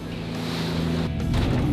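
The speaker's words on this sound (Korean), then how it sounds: "파도에 배가 심하게 흔들립니다" Fishing boat out at sea in a high four-metre ocean swell, a loud continuous engine drone and rumbling rush of water and wind, with a brief surge of spray near the end.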